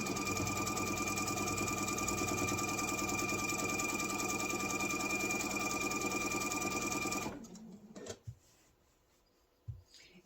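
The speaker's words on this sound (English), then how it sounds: "I'm going to sew all the way across." A sewing machine stitches steadily all the way across an apron made from Kitchen Prints fabric, its loud, fast, even run lasting about seven seconds before it stops abruptly and leaves faint handling noises.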